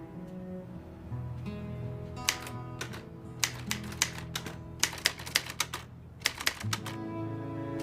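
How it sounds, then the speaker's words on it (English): Typewriter keys are struck in an irregular run of sharp clacks over a sustained tonal background, with no voices. "Punch the keys, for God's sake!"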